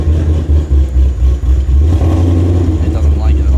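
Ford Shelby GT350 V8 with aftermarket camshafts idling roughly, a loud, lumpy low rumble that pulses unevenly, heard close with some nearby talk.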